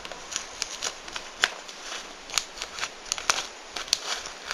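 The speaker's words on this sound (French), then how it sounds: "On a un bout rouge. On le coupe en deux." Scissors cut a red piece of material in two, a run of crisp, close snips and clicks spread irregularly over a few seconds against a quiet background.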